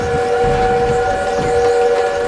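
German armored train in a realistic war video game: a loud, close, continuous whistle-like tone layered over rumbling rail noise, steady throughout the short stretch, with no speech.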